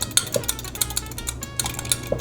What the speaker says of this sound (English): It's just with a fork. So we take it and we basically whisk it